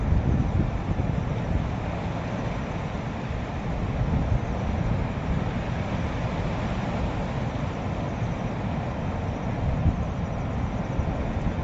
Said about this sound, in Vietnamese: Chỗ đây rất là gió, rất là khủng khiếp